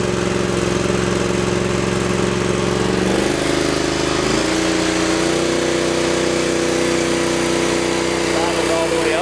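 A Power Trac compact tractor engine idles loudly and close, its steady drone shifting pitch as the throttle is moved between idle settings, with someone talking over it.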